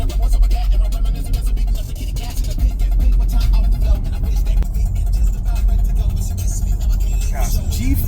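A new car accelerates quickly on a road in Elmont, Alabama, with a loud, steady engine and road roar heard from inside the cabin. Voices speak over the engine noise.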